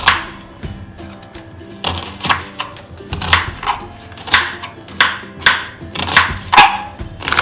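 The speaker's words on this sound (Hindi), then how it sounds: "अब इसको हम बीच से काट के चॉप कर लेते हैं।" A knife chops an onion in a home kitchen while a chicken tikka biryani is being prepared, the onion sliced very thin. The blade strikes the board loudly and up close in a steady rhythm of about a dozen chops, with no talking.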